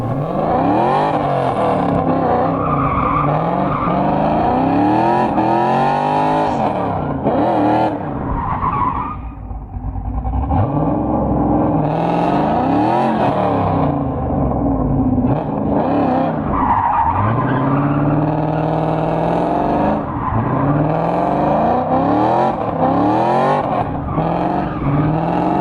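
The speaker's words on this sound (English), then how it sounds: "I'll play a clip of the last time I did a burnout." A stick-shift F-body car with a 315 rear tire does a burnout, its engine revving hard and rising and falling repeatedly while the rear tires squeal and skid loudly and continuously, close by.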